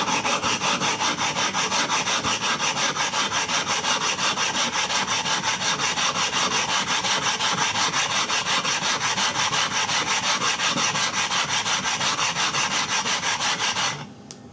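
A stone rubbed steadily back and forth over a water sharpening stone, a continuous gritty scraping stroke that runs loud and close for nearly the whole stretch before stopping abruptly at the end.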